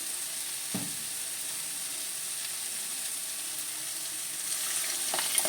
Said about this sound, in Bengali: যেহেতু টমেটো পেস্ট করে নিয়েছিলাম, সেই পেস্টটা দিয়ে দিচ্ছি